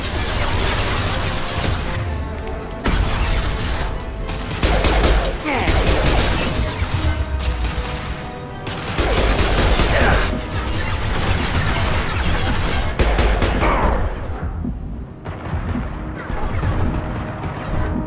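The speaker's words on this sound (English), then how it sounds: "Firing a high impact shot." High impact pistol shots in Mass Effect, several loud sharp cracks and crashes spaced through a busy combat soundscape, with brief quieter gaps between volleys.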